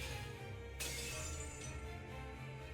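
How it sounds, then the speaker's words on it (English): A crystalline glass barrier shatters in Fate/stay night with a sudden bright crash, over a dense, low, rumbling game soundtrack that continues steadily underneath. "Her crystalline barrier shatters under the deadly rain of so many weapons."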